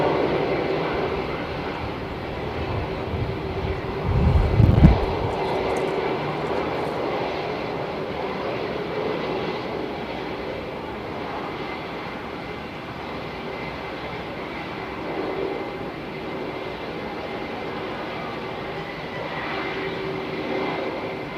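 An airliner in from Townsville at Melbourne Airport, its engine roar droning steadily throughout, with a louder low rumble swelling briefly near the start before settling back into a continuous distant hum.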